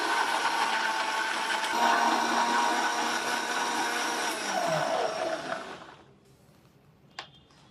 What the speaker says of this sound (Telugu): దీంట్లో మనం వాటర్ యాడ్ చేసుకొని జ్యూస్ చేసుకుందాము